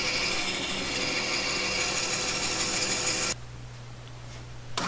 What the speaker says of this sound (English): A runner is made by splitting a 3/4 inch dowel on the bandsaw.